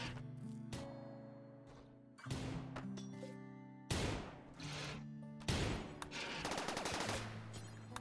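Video game gunfire in a space combat game, heard as several loud, sharp bursts of rapid shots separated by short pauses, with ringing tones of game music beneath and no talking.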